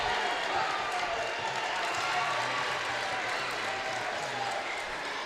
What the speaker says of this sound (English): you could totally tell this crowd is so lively right now. They're so excited. They're hyping this guy up right now.